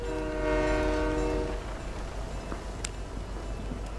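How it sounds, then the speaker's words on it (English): A train rolls past in a video game, its loud sustained horn sounding for about a second and a half before giving way to rumbling wheels and rail noise that carry on to the end. "Train's right here."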